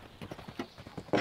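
Horse hooves cantering over raised poles in a schooling exercise, a steady run of near, rhythmic thuds and clip-clops ending in a louder final strike, with no talk.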